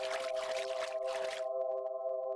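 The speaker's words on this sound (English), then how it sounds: "very juicy water sounds" Burbling, liquid water effects from the video game Haunted Cities, layered over a steady tonal drone that continues alone after the watery noise cuts off midway; no talking.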